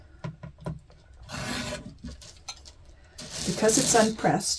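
Rotary cutter or blade trimming two sides of unpressed fabric half square triangles along a ruler, giving soft rasping cuts and scrapes close up, with someone talking between them.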